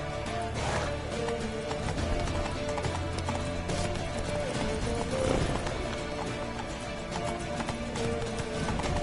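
Galloping horse hooves in The Witcher 3, a steady rapid clip-clop running close and loud beneath dense game ambience, music and shouted voices.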